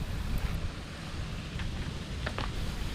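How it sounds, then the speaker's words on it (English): A waterfall in a hotel garden with a pond on Ishigaki Island, Japan, heard as a steady, loud broadband rush of falling water with no pauses. "The sound of the waterfall is getting louder and louder."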